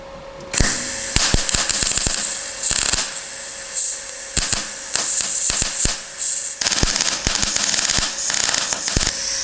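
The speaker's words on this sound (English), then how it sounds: "So this is a 1mm seal plate, so I adjusted the MIG. And now I'm about to do the plug weld." MIG plug welding on a 1mm seal plate of a rusty car's sill area, a loud sputtering crackle in a series of short bursts with brief gaps between each plug weld.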